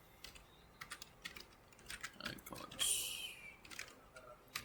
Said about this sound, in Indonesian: kita hanya perlu menekan tombol enter di keyboard